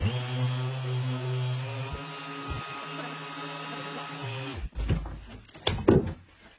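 An electric sander with no speed control runs on furniture, a steady mechanical whir that continues for several seconds before stopping, followed by a few clunks and handling knocks.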